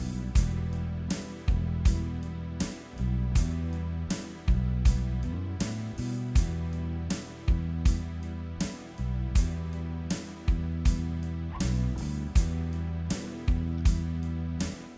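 Recorded real bass guitar playing a pattern on a Ketron arranger keyboard, with a steady run of plucked, rounded low notes in a rhythmic groove alongside drum hits, close and clear, with no talking.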